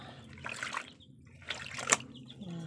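Rain-soaked clothes and market goods soaking in a tub of water, with soft trickling and sloshing as the wet fabric is pushed under, a few brief drips and splashes rising over a low steady background.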